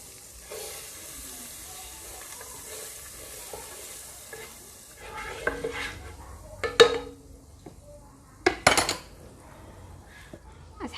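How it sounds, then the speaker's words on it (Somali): Blue Band margarine melting in a pan gives a soft, steady sizzle and hiss, broken midway by a few louder clinks and scrapes of a spoon or utensil against the pan, with no talking. "blue band oo ii dhalaala"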